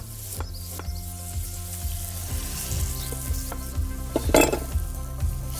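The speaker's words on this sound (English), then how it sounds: "Gonna add my garlic and ginger." Garlic and ginger sizzling in chili oil in a pan, a loud steady crackle close by, with a low hum and several metallic utensil knocks and scrapes.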